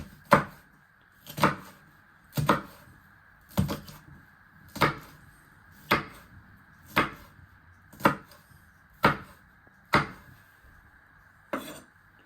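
A knife chops vegetables into little pieces on a board for pork and chorizo sausage rolls, with about eleven sharp, evenly spaced thuds roughly a second apart, close and clear over a quiet background.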